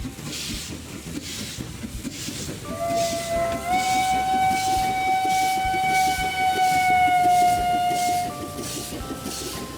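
A steam train in a mobile train racing game sounds a long, bright whistle over a rumbling, chugging engine bed. The tones hold for several seconds, loud and up front.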